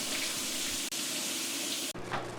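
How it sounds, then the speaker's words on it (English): Water from a kitchen-style sink faucet runs steadily, flushing salt debris down the drain, a dense continuous splash with two brief cutoffs and a slightly changed tone near the end. "we can also use the faucet and the sink to flush those extra bits of salt"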